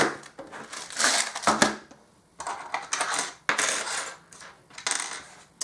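Small metal charms are shaken and dropped several times in quick bursts of bright jingling and clattering, close and fairly loud, separated by brief pauses, with no talking.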